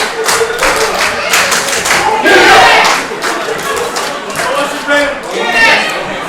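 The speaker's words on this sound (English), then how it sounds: "The unit really whipping up this crowd like that" A wrestling crowd at a tag-team match, cheering and shouting in dense, continuous noise that surges louder midway and again near the end, with scattered claps and thuds and a commentator talking over it.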